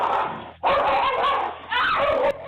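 Pit bull barking in a tense encounter with a small dog, several loud, close, rough barks in quick bursts with no talk over them.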